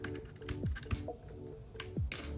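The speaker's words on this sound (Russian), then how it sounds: "Давайте я сниму все кнопочки." Keycaps are pried off a dusty, four-year-old Keychron K3 Bluetooth mechanical keyboard. Faint plastic clicks and snaps come close up in an irregular series, with light rattles between them.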